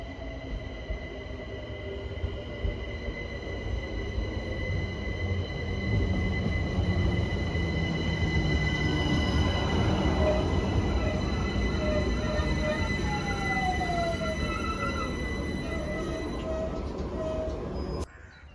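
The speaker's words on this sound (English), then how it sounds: "train back to Richmond." A passenger train to Richmond rumbles along the rails with a loud, continuous roar, rising wheel squeals and steady clatter heard from on board, ending abruptly.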